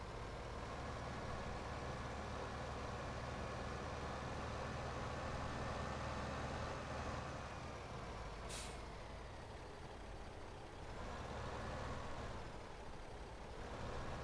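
A tractor engine in the Farming Simulator 15 video game drones steadily and loudly for the whole stretch, with a brief hiss partway through and no talking.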